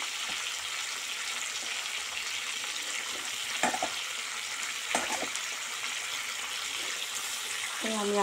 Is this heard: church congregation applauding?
no